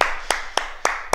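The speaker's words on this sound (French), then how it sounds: "On s'applaudit." A kickboxing class claps together at the end of a workout, four sharp, evenly spaced claps ringing out loud and close over a faint background.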